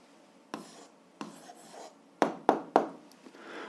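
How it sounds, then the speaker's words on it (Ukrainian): An answer to an algebra exercise is handwritten in short, scratchy strokes, a few soft ones followed by three sharper, closer taps and scrapes. The sounds are fairly faint and nobody talks over them. "Записуємо відповідь, пишемо відповідь."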